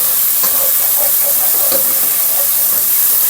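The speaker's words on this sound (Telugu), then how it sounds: "టమాటాస్ కూడా వేసిన తర్వాత బాగా ఫ్రై చేసుకోవాలి." Tomatoes fry in a pan for a mushroom masala curry with a steady, close, hissing sizzle and a few soft stirring clicks. No one talks.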